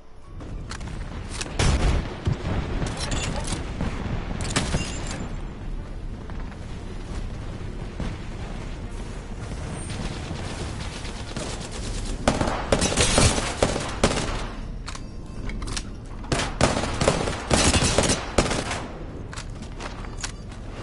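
Gunfire in the video game Apex Legends: dense bursts of rapid shots and impacts come in clusters over a continuous battle din, loud and close, with no voices.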